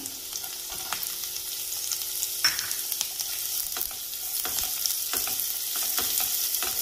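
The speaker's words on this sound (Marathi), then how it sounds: "आता याच्यात मी कांदा टाकून घेते बारीक चिरलेला।" Finely chopped onion frying over high flame in a pan for veg manchow soup, a continuous crackling sizzle with occasional soft stirring clicks.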